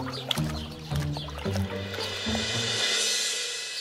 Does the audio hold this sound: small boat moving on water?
yes